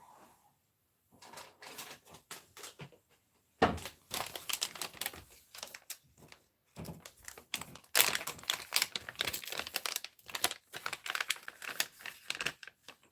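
Plastic clicks, snaps and crinkling clatter sound as an adhesive tape runner's refill cartridge is pulled out and replaced, in irregular close-up bursts after a quiet start.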